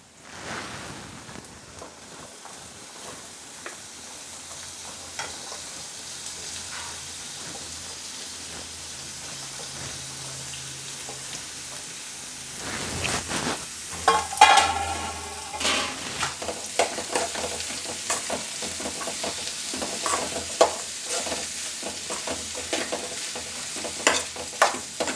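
Pumpkin and onions stir-fry in a pan, starting as a soft steady sizzle and turning louder midway with scraping spatula strokes and crackling bursts, no voices.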